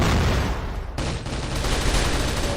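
Dense, continuous gunfire from a weapon in a video game roars steadily and loudly, with a brief break near one second before the rapid firing resumes.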